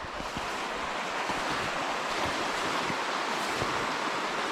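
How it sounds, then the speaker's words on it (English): Creek water rushing loudly in a rainy woodland, a dense steady roar of flowing water close by with some wind buffeting, no talking. "the second one still crosses the creek and it's pretty loud"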